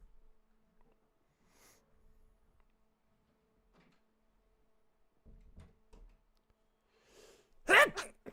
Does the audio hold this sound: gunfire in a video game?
no